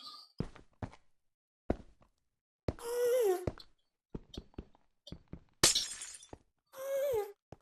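Glass blocks shattering in a Minecraft-style video game without silk touch, heard as several short sharp breaking bursts with brief crunchy clicks scattered between them, fairly close and with no talk over them.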